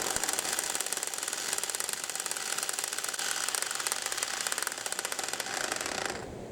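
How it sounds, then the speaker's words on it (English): A hammer drill runs loudly with a rapid, buzzing percussive rattle throughout, stopping abruptly near the end. "And this is the one with the hammer action for concrete walls."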